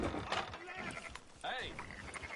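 A few wavering sheep bleats sound close by in the video game Red Dead Redemption 2, mixed with soft clatter and a voice speaking in between.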